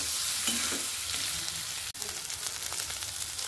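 Soybean chunks sizzle steadily in a hot pan while being stirred, with scraping and shuffling sounds and one brief clack midway.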